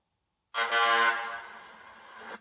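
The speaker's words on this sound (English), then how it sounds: "Where's the big air horn I've downloaded off the internet?" A single loud, blaring truck air horn, downloaded sound played through a Tamiya Scania 770S RC truck's sound system, sounds for about two seconds, strong at first and tapering slightly before cutting off.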